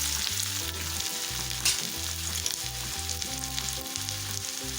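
Finely chopped onion sautéing in a pan for dhaba-style shev bhaji, a steady close sizzle and crackle of frying that runs unbroken for several seconds with no voices.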